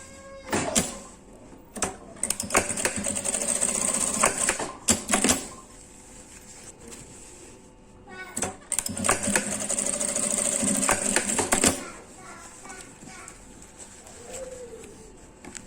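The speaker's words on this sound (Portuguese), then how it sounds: "Aí, agora é só fazer uma costurinha aqui desse lado" A sewing machine stitches a seam on a fabric essential oil holder in several loud, fast bursts of rapid mechanical clatter, separated by brief pauses and quieter handling sounds.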